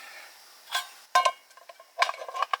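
Metal clanks and scrapes in short bursts, with a sharp knock near the middle and a quick run of clinks toward the end, close by.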